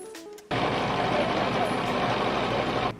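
A tour boat's Ford Transit car engine starts abruptly and runs as a loud, steady, close mechanical drone for a few seconds, then drops away sharply.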